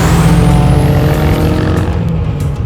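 A 1992 Ford Escort RS Cosworth, an all-wheel-drive turbo rally car tuned to 607 hp, runs loud and close with a deep steady engine drone and a rising high turbo whine, like a jet engine, fading slightly near the end.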